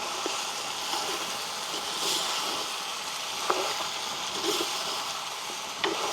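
Brinjal sautéing with dried stingray in a pan, a steady soft sizzle and crackle throughout with a few faint clinks of stirring, close and fairly quiet.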